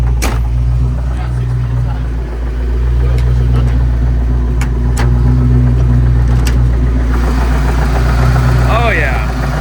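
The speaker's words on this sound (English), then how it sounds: "Is it knocking? Yeah," A Ford Foxbody engine with a knock idles close by as a steady, loud low rumble, with voices talking over it throughout.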